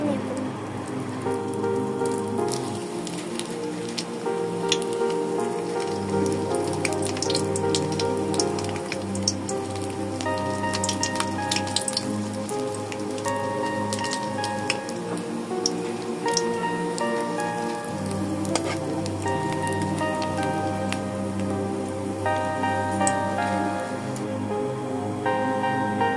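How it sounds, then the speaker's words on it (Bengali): Rice-flour papad frying in hot oil, a steady dense sizzle and crackle that runs continuously and fairly loud, with soft background music underneath. "মতো শুকানো হয়ে গেলে এবার তেলের মধ্যে ভেজে নেব।"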